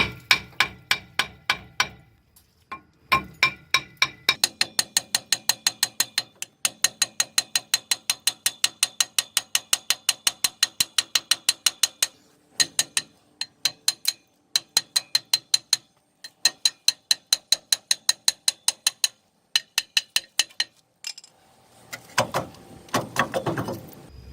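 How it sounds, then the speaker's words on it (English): Brake rotor being worked off a Ford truck hub, a long run of rapid metallic ratcheting clicks in bursts separated by short pauses, close and fairly loud, ending in a few heavier clunks. "I'll go ahead and take the rotor off."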